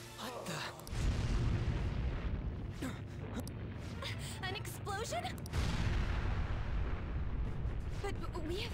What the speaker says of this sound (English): What the... An explosion?